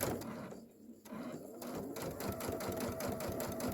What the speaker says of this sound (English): let's go ahead and sew these together